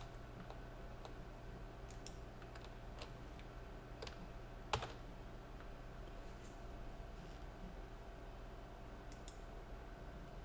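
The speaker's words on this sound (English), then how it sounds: "You hold Shift and press C" A few isolated clicks of keys being pressed on a computer keyboard during a drive sanitization lab, one sharper tap standing out, all faint over a steady low electrical hum.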